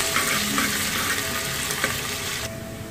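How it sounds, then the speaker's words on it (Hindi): Onions sauté in a pan until brown for Hyderabadi mutton salan, a steady, close sizzle of frying with soft stirring scrapes running throughout and easing slightly at the end. "इसे हम ब्राउन होने तक सौते करेंगे।"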